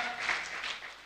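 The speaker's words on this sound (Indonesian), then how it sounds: "kita berikan tepuk tangan" Brief applause from a conference audience at a plenary session, a quiet wash of scattered clapping heard from a distance that fades within about a second.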